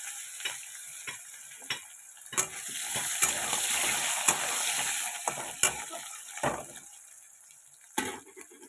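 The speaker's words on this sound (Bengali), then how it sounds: "আলুগুলো আগে একটু ভালো করে ভেজে নেবো" Cut potatoes frying in a pan give a close, steady sizzle, broken by repeated sharp spatula scrapes and taps as they are stirred, fading toward the end.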